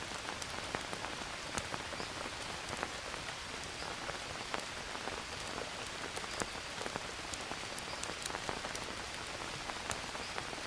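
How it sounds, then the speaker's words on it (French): Steady rain in the video game Green Hell patters densely and evenly throughout, with scattered sharper drops standing out against the constant hiss. "Normalement, il doit pleuvoir."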